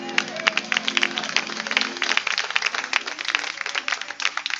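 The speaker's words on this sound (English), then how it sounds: "Come on, let's give God a hand clap of praise." Worshippers clap their hands in praise at a church anniversary musical, sharp irregular claps close by over a sustained tonal background, fairly loud and continuous.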